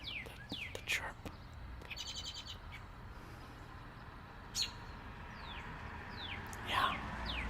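Wild birds sing and chirp in short rapid phrases, several calls scattered over a quiet outdoor background, fairly faint and at a distance.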